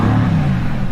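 Mercedes-AMG GT S engine revs with its sports exhaust valves open, a loud, close, deep rumbling roar that holds steady through the moment, with no talking.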